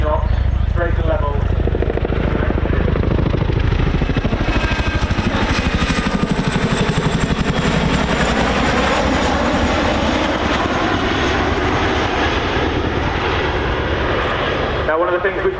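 Chinook twin-rotor helicopter flying a display at the RAF Cosford air show: a loud, continuous rotor and engine roar with a heavy rhythmic beat, swelling and shifting in pitch as it passes, with a commentator talking over it.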